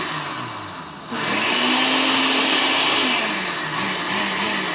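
A kitchen blender roars loud and close as it crushes ice for unicorn frappes, its motor climbing in pitch and then wavering steadily as the ice grinds down, with no talking.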